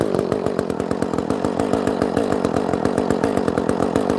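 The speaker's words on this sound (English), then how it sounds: "Not sponsored, but Echo is a really good chainsaw." An Echo chainsaw cutting trees, its engine buzzing steadily with a rapid chattering rhythm as the chain bites, loud and close, with no talking.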